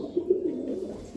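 A purple short-legged pigeon coos softly nearby, giving a few low, rounded throaty pulses in one short phrase.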